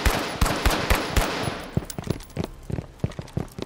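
Automatic gunfire in the shooter Firewall Zero Hour: a rapid run of loud, close shots at a steady rhythm, then a looser, more scattered series of bursts as the firing continues.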